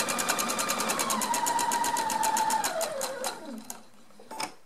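A sewing machine stitching a patchwork table runner, a fast steady needle chatter close up that slows and winds down, stops, then gives one brief final burst.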